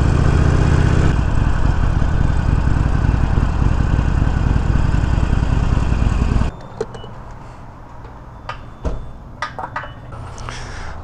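A 2020 Harley-Davidson Iron 1200 motorcycle engine runs loudly and steadily, then cuts to a quieter low idle with scattered clicks and knocks nearby.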